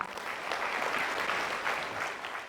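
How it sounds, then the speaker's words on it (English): A crowd at a network-marketing launch event in Manila claps steadily for about two and a half seconds, producing a dense, even wash of applause with no voices rising above it. "So make yourself a round of applause"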